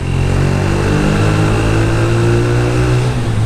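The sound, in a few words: Yamaha YBR 125 motorcycle with aftermarket exhaust riding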